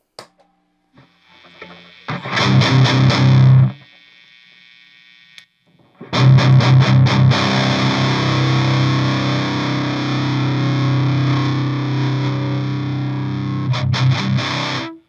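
Heavily distorted electric guitar chords through an amp's gain channel ring out loud and sustained, with a brief quieter gap between bursts and a final strummed stab near the end.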